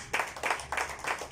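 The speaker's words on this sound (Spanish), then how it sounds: "Quiero que le des un aplauso a Cristo Jesús" A few rhythmic claps ring out in a church, four evenly spaced strikes in quick succession at moderate volume with no voices over them.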